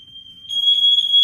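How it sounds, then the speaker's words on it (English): A smoke alarm goes off indoors with a piercing, steady high-pitched electronic tone that persists throughout and grows louder partway through, sounding alone without speech. "Oh god, smoke alarm is going off."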